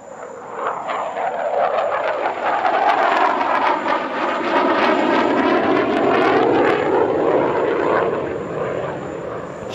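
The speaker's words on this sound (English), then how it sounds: "High Alpha Pass coming up." Delta-wing fighter jet making a high alpha pass at the Dubai Airshow, a loud roaring flyby that swells in the first seconds, holds strong through the middle and eases off at the end, the engine tone sliding audibly as it passes.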